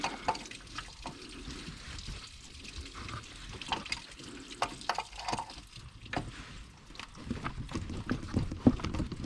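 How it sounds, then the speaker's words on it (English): Water drained from the cooling system of a Chevy Silverado 5.3 Vortec engine, dripping and splashing in an irregular patter of close, faint drops, getting busier toward the end. "Go ahead and let that antifreeze, or water in my case,"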